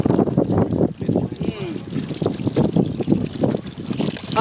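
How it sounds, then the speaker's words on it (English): Fresh water runs from a solar-powered borehole well in Zambia, a continuous trickling and splashing heard close by under a person's talking. "running water"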